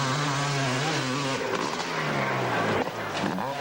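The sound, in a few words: Honda motorcycle in hillclimb race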